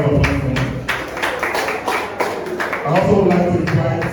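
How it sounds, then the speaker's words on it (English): Audience applause greets the chief host, Dr. Ralph James, at a Nigerian stamp, currency and bottle presentation event, a steady wash of many hands clapping for about four seconds, swelling near the end, with a voice heard over it. "A round of applause for him."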